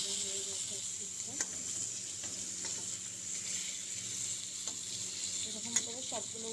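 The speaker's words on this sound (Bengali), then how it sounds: "অল্প তেলেই বেগুনটা ভাজবো" Eggplant pieces fry in a little oil in a pan, giving a steady, soft sizzle with occasional small pops and clicks.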